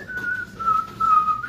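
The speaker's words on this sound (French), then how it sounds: "Quand tu siffles, c'est que tu te sens super bien." A person whistles a single sustained, slightly wavering note, clear and close, for under two seconds.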